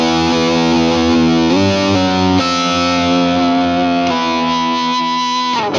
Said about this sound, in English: I can add in a bit of drive, double drive if you so wish.